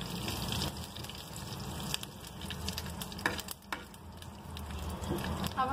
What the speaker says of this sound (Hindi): अब हम दाल में तड़का लगाएंगे।